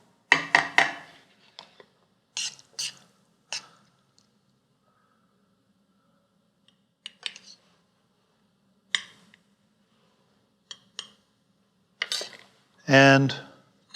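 A spoon serves caponata onto a plate, making scattered light clinks and soft scrapes separated by quiet gaps, with one louder clatter near the end.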